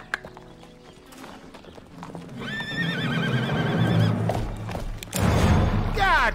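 Horse in the western video game Gun: a nearby neigh and whinny rise over hooves clip-clopping, building louder toward the end with a heavy thud.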